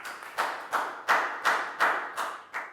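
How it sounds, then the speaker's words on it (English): A classroom of students claps for a classmate in a short burst of about seven distinct, uneven claps, close and fairly loud, with no talking over them. "High five and a big round of applause for Prau, please, guys."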